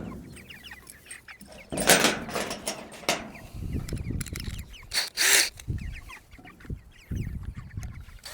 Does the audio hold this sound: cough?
no